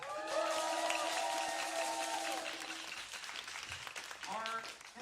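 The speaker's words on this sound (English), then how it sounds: "Just a quick round of applause" An audience at a taiko drumming recital breaks into applause, a dense wash of clapping with scattered cheers, while a voice talks over it.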